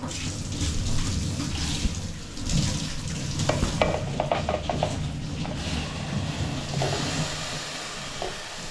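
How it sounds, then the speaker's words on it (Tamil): Chopped tomatoes drop into a pan of frying mushroom curry, giving a steady close sizzle with stirring and scraping clatter and a few brief metallic taps, no talk. "இப்போ அடுத்ததா நம்ம சின்ன சின்னதாக கட் பண்ணி வச்ச தக்காளியை உள்ள போட போகிறோம்"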